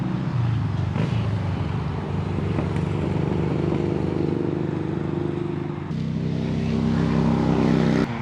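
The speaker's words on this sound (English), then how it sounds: "Motorcycle." A motorcycle passes on a nearby street, a continuous loud engine roar that swells and shifts partway through, with no talking over it.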